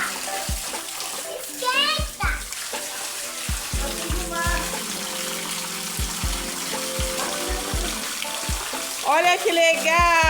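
Water sloshes and splashes in a child's bath, with repeated bursts of splashing under children's voices and an adult speaking nearby.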